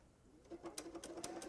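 A Brother Essence VM5200 sewing machine runs a sideways zigzag stitch, giving a quick, even run of soft mechanical ticks close up.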